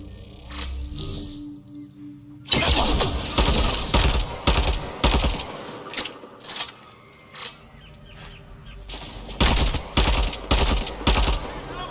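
Rapid gunfire in Mass Effect Andromeda: after a quieter opening, dense bursts of sharp, close shots crackle in clusters with brief lulls between them, loud and layered over game ambience.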